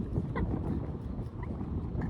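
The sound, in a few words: wind blowing outdoors by water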